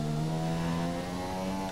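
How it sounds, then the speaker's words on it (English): Formula 1 car engine in the racing game F1 2017, a high, steady whine from the cockpit that dips briefly mid-clip as the car double upshifts, then resumes its droning pitch. "Double upshift there."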